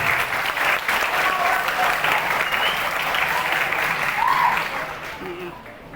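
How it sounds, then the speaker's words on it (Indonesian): Applause from students and staff at a welcome and badge-pinning ceremony for new pupils at SMA Islam An-Nizamiyah, a dense sustained clapping from a crowd that holds steady, then tapers off near the end. "Tepuk tangan buat kita semua."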